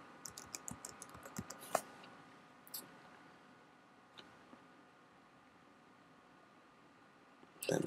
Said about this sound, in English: you just type in whatever you want your password to be here